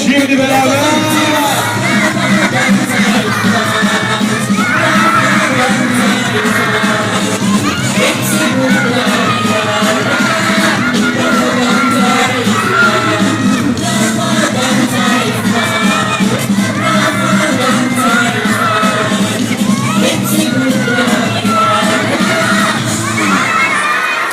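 A large crowd at a Rafadan Tayfa children's show cheers, shouts and applauds loudly and continuously, with children's high voices whooping throughout.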